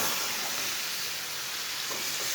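Chicken masala fries on medium heat and is stirred with a spoon, making a continuous soft hiss and sizzle up close with no voices.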